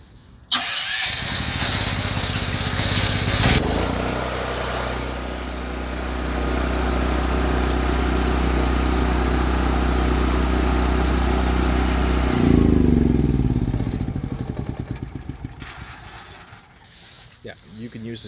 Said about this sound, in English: I can start this right now using the conventional controls if I'd like to.